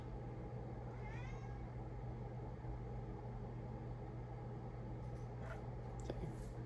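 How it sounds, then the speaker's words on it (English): A pet cat gives a faint meow partway through, over a steady low hum in a quiet room. "I also feel like my cat meowing is a sign"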